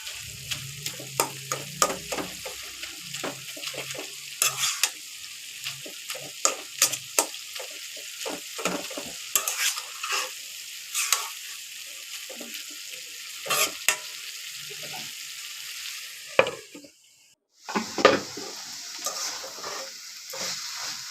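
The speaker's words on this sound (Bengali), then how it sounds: "শাকটাকে আমি নেড়ে দিয়ে দিব এবং আলুগুলা একটু চুন্নি দিয়ে গালায় দিব" Ivy gourd greens and potato pieces fry in a pan under a low sizzle while a spatula scrapes and taps the metal in repeated irregular strokes, followed by a brief pause and a lid-like clatter near the end.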